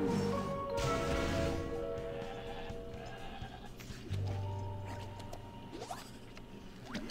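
A goat bleats in the Plants vs. Zombies Heroes card game, a wavering animal cry standing out over steady game music and effects.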